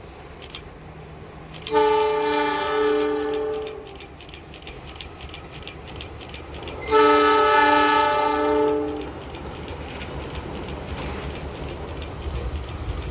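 The Kamandaka passenger train from Semarang Tawang to Cilacap passes Tumiyang in Banyumas, sounding two long, loud horn blasts a few seconds apart over the steady, rhythmic clatter of wheels on rail joints.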